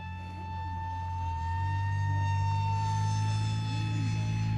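A radio-controlled model airplane flies overhead, its engine a steady droning whine with a sustained tone that swells slightly louder midway, heard without talk.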